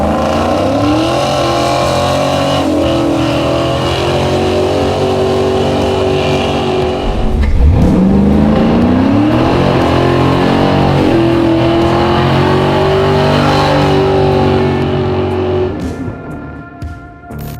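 A custom slammed, garage-built Chevy C10 truck roars through a burnout, its engine revving hard and holding high, dipping briefly, then climbing again, loud and close for the whole stretch before easing at the end.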